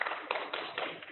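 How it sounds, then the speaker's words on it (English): A small congregation at a Shabbat morning service gives a short burst of applause, close and fairly soft, with a few uneven claps through the whole second. "I don't get a whole lot of applause for my sermon."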